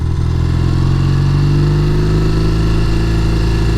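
1969 Triumph T120R motorcycle engine running close by, a loud, steady throbbing idle with a slight rise in pitch partway through.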